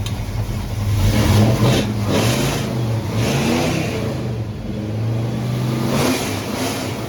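A car engine revs hard and steadily, its pitch climbing and dipping through several surges, close and loud with no talking.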